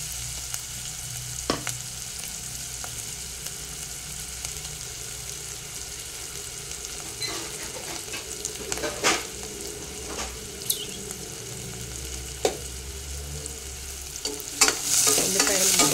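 Onions frying in a pan for kakarakaya pulusu, a bitter gourd curry, give a continuous close sizzle with scattered stirring clicks and scrapes. A busier burst of clatter comes near the end, and nobody speaks.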